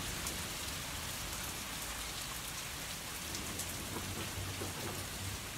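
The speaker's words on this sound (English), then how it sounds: "I love thunderstorms." Heavy rain in an August thunderstorm pours steadily as a dense, close hiss of drops on surfaces, with a faint low rumble in the background and no voices.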